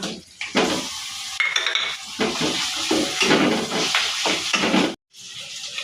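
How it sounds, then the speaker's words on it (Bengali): Minced meat hits a hot pan with fried onion and green chilies. A loud, close hiss of frying mixes with scraping and clanking from a stirring spoon, then cuts off abruptly near the end. "এবার এদের ভিতরে দিয়ে দেবো মাংসের কিমা"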